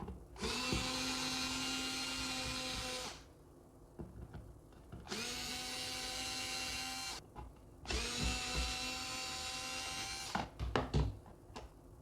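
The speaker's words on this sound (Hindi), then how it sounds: "इस बॉटम को बाहर निकालने के लिए हमें सबसे पहले इन स्क्रूज़ को फ्री करना होगा, इसमें से निकालना होगा।" A power screwdriver removes three screws from the base of an Inalsa two-litre electric kettle. Three loud, steady whirring runs of a few seconds each are separated by short pauses and clicks.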